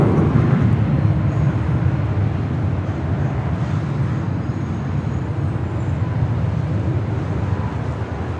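Boeing 737 MAX 9 airliner at Los Angeles airport, a continuous broad jet roar holding steady and fading slightly over several seconds, heard alone without voices.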